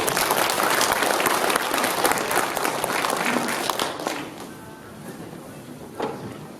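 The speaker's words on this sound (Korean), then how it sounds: "박수로 맞아주시기 바랍니다" Residents at a Samjeon-dong urban redevelopment briefing clap to welcome the committee chairman, dense applause that thins and fades after about four seconds into a quiet room.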